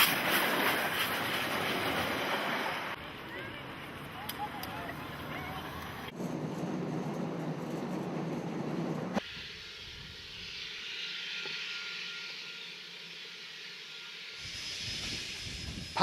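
A train running on rails past the disused Woodville railway station in New Zealand, a rumbling rail noise that changes abruptly in character several times, moderately loud throughout.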